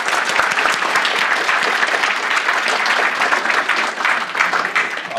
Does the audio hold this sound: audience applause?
yes